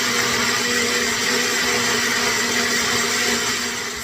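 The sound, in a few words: blender blending onion mixture until smooth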